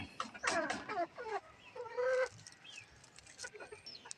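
Native chickens cluck in short, irregular bursts nearby, fairly faint against a quiet background, with a few scattered softer calls.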